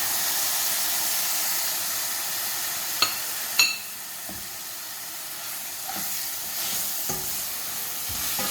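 Masala and fish stir-frying in a hot pan give a steady, bright sizzle and hiss throughout, broken by a few sharp scraping clinks of a stirring spoon against the pan.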